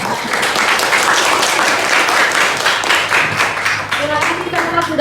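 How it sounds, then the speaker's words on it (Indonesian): Classroom full of students clapping for a classmate who has just presented, a dense, loud burst of applause that holds steady and then thins out, with a teacher's voice coming in near the end. "Beri aplaus buat."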